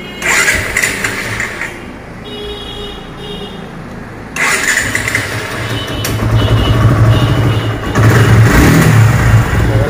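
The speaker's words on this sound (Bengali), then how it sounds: "গাড়ি স্টার্টটা হচ্ছে" A 2023 Suzuki Gixxer Monotone 155cc motorcycle with about 6,974 km on it is started up close; the engine catches, then settles and builds into a loud, steady running note.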